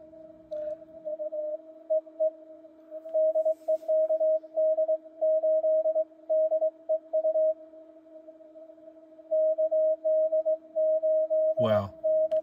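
Morse code CW tones come through a Yaesu FT-710 ham radio with a tight DSP filter, a steady pure beeping in dots and dashes over a quiet background, ending with a brief burst of noise.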